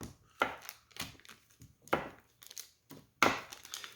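A knife chops through a block of butter on a cutting board, cutting it into cubes for pie dough, with about half a dozen crisp, close strikes at an uneven rhythm.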